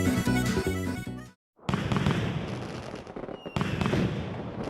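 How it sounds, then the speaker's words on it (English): Fireworks crackle and burst through a Mario video game opening, a dense run of pops layered over bright music, broken by a brief silent gap before the bursts resume loud and continuous. "Got some sort of fireworks."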